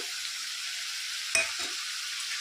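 Tomato pieces frying in a pan for homemade cabbage Manchurian, giving a steady hissing sizzle throughout with one brief stir or clink near the middle, close and moderately loud, no talking.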